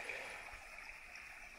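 A small forest river running low after rain, a faint, steady gurgle and trickle of gently flowing water, continuous and distant with no voices.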